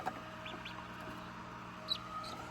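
Chicks hatching inside an egg incubator, giving a few faint, thin high peeps over a steady low hum, with one slightly louder chirp near the end.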